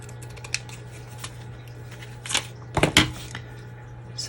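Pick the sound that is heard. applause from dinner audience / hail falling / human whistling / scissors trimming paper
scissors trimming paper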